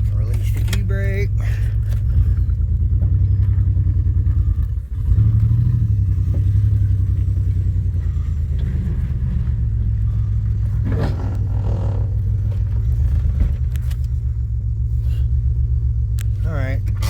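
A Chevrolet Impala engine idles and rolls off after the e-brake is released, a steady loud low rumble with a brief dip and a few clanks and scrapes, heard from inside the car with voices present.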